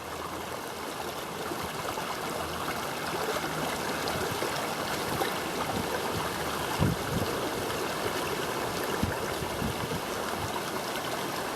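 A flowing creek along a bush walking track on the Kierans Creek loop near Dundundra Falls, Terrey Hills, gives a steady, broad rush of running water throughout, with a few brief knocks and no talking.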